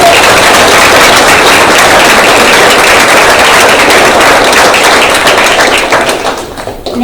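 Loud, sustained applause from a banquet audience at a press association awards dinner, dense clapping filling the room for several seconds before tapering off near the end.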